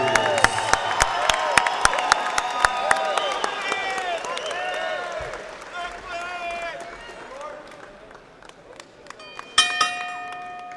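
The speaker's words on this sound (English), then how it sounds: "can I get a big round of applause for both of these female warriors?" A boxing arena crowd at the Boeing Techport Arena in San Antonio applauds two female fighters after their bout, clapping and cheering mixed with loud tonal sounds and a bell, fading before a sharp burst near the end.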